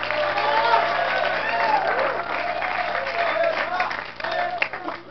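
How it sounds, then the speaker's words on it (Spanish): A studio audience claps steadily throughout, a dense wash of applause with a voice faintly audible beneath it. "Un fuerte aplauso"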